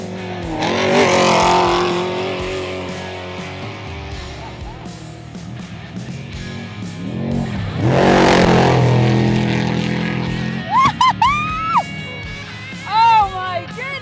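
Off-road race trucks at the Mint 400 desert race roar past close by in two loud engine surges that rise and fall, with excited voices talking and shouting between and after the passes.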